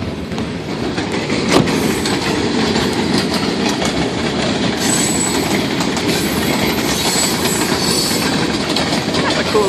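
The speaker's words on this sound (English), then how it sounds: "We can hear the train." A train rumbles past steadily and close by, wheels clattering on the rails with a continuous heavy roar and occasional metallic squeal.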